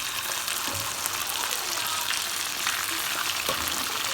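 Milk goes slowly into a hot pan while cooking, giving a steady close sizzle and frying hiss with a few soft stirring clinks and no talk.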